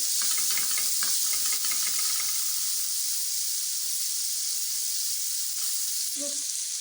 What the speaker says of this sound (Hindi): 1 से 2 खाने का चम्मच मैंने कुकिंग ऑयल डाला है और इसके अंदर अब मैं डालूँगी प्याज